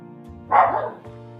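A dog gives one sharp, close bark over a quiet background with a faint low hum.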